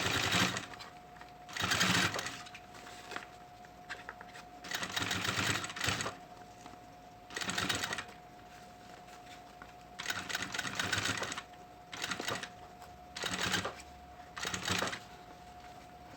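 A sewing machine stitches a synthetic leather school pencil case with white thread, running in about eight short bursts of rapid whirring, each one to two seconds long, separated by quiet pauses, close and fairly soft.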